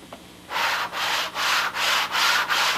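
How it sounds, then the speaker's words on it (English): Spitfire model doublers being sanded on a sanding block in repeated back-and-forth strokes, six steady close rasping passes with short gaps between them, no talking. "A good sanding block or the table glass is just perfect for this."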